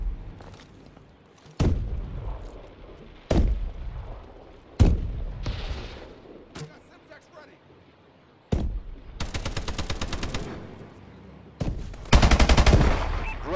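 Suppressive gunfire in the shooter game Call of Duty Advanced Warfare: sharp repeated gun blasts and rapid automatic bursts, loud and close, with short gaps and quieter background between volleys.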